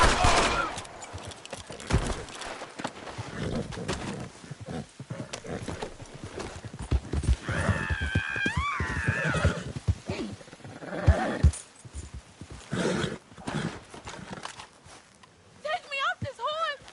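Hooves clatter steadily as a horse moves, with shrill neighs breaking out in the middle and again near the end, mixed with bursts of gunfire and talking voices.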